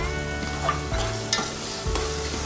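Yogurt stirred into a sizzling paneer biryani gravy, a steady loud frying hiss with periodic scraping strokes of a spoon against the pan, close and without talk.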